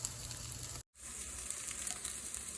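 Vegan burger patties frying on a hot griddle, a steady close hiss and crackle of sizzling with one brief dropout, no talking.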